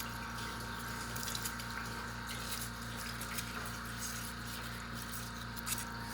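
Engine parts from an LT1 engine build are rinsed with solvent pumped back to a tank, a low steady pump hum under a soft, continuous trickle of flowing liquid, with no talking.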